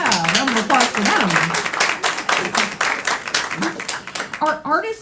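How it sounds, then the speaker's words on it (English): Audience at an improv comedy theater claps for student staff, brisk applause that tapers off, with voices talking over it throughout. "Yeah, round of applause for them."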